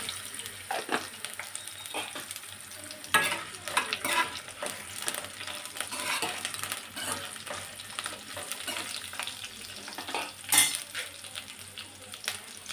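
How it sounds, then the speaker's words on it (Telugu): Fenugreek seeds fry in a pan for a tomato coriander chutney, giving a steady close sizzle with scattered crackles and a few louder stirring clatters of a spatula, no voices. "ఇవి బాగా ఫ్రై కావాలి కొంచెం మెంతులు"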